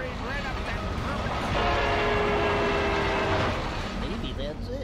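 A train in the video game Oddworld: Soulstorm rumbles steadily, with a sustained horn-like tone swelling in the middle, while voices talk over it.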